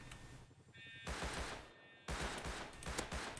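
Gunfire in the survival game Rust: dense bursts of rapid automatic shots, loud and close, separated by a short pause and then resuming.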